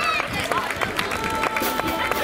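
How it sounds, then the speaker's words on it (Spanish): Outdoor crowd at a 2019 cross-country race in Falces claps for the winning women's finishers, scattered loud hand claps popping over crowd babble and voices talking nearby. "¡Venga, enorme aplauso para estas chicas!"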